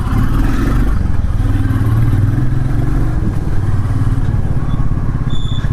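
A warmed-up motorcycle engine idles steadily and loudly up close, a continuous low rumble with a faint rattle that stays level throughout.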